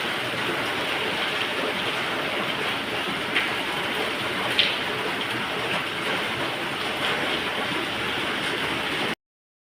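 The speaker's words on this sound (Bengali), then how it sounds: "বৃষ্টি হচ্ছে" Steady rain pours down in an even, continuous hiss, with a couple of faint clicks partway through.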